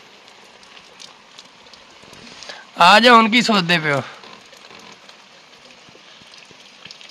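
Heavy rain pours down steadily outdoors, a continuous soft hiss running throughout, while people talk nearby and one brief loud burst of voices rises over it.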